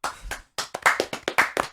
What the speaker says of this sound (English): just claps, everyone